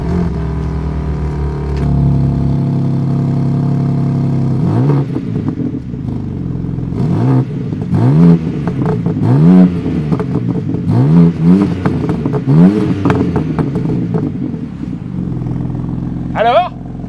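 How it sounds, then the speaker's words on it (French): A BMW M2 engine blips and revs repeatedly at standstill, each throttle stab rising and falling through the exhaust, loud and close, with a final sharp bark near the end; people talk over the idling between revs. "l'échappement est totalement étouffé. Eh bien que tu sais quoi? On va vérifier tout de suite."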